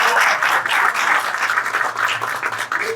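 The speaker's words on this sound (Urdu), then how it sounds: "آپ کی تالیوں کی گونج بتائے گی کہ کیا بہترین ہے ہمارے لیے" A crowd at a traders' association meeting in Main Bazaar, Nawan Shehr, Multan, bursts into loud, close applause for the new president, with dense, sustained clapping that stays strong from start to finish.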